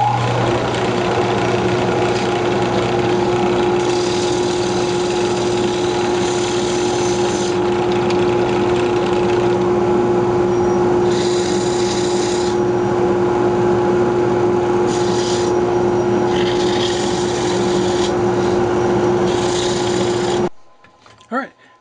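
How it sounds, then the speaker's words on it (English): A wooden Christmas ornament spins on a lathe while it is sanded, giving a loud, steady motor hum under a rough rasping scratch that comes and goes in bursts, ending abruptly in a brief clunk. "So we'll just go ahead and sand that up."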